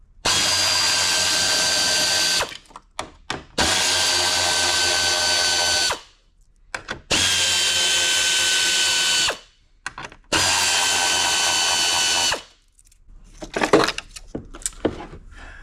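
A power tool works at the fog lights on a Jeep Gladiator bumper: four loud, sustained whirring bursts of a couple of seconds each, separated by short pauses, followed by close rattling and clattering of parts being handled.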